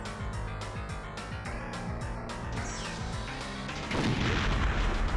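A grenade blast in the Perfect Dark shooter game, a sudden loud burst that swells into a broad rumbling roar near the end, laid over rapid, steady gunfire and game music.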